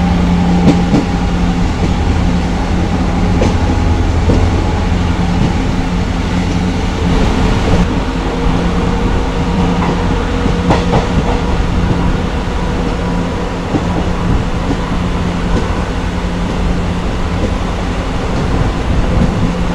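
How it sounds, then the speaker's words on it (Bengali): A DEMU passenger train runs steadily, its loud continuous rumble and rail noise filling the whole stretch from inside the carriage, with faint clicks over the tracks and no voices. "তো এরপরে আমাদের এই ট্রেনটা স্টপেজ দেবে শেখেরখোট"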